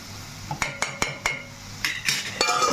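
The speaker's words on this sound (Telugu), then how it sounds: "మూత పెట్టుకుందాం" A metal lid goes onto a pan of frying onions with several sharp, close clinks and taps, then a scraping rattle, over a steady low background hiss.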